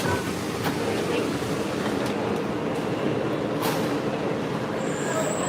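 A Magic Kingdom monorail ride gives a continuous, moderately loud rumble and hiss from inside the car. A brief high tone chimes near the end.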